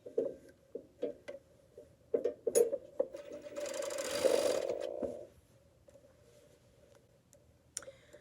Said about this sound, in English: let's go ahead and serge these sleeves in